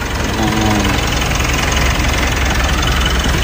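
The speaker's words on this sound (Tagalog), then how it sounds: "In-start na pala yung makina." A Mitsubishi Montero Sport engine idling nearby, a steady low rumble with a faint rhythmic knock, brief voice at the start.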